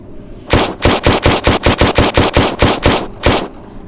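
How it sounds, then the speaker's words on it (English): Two guns firing at once in a video game, a loud rapid string of about fourteen sharp shots in quick even rhythm, with a short gap before a final shot, no talking. "You can also pick up 2 guns at one time and fire 2 weapons at the same time"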